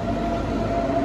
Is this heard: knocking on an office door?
no